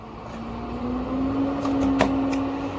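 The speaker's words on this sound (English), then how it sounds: "Oh, sorry for the loud noise. That's a school bus." A school bus passes outside, heard from indoors as a rising engine drone with a steady low hum that swells and lingers across the clip, alone and without speech.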